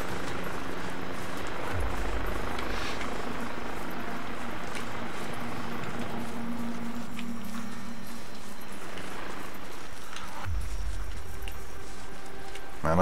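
A helicopter hovering low in ArmA 2, with a steady rotor drone and turbine whine that continues throughout, plus a few heavier thumps at intervals.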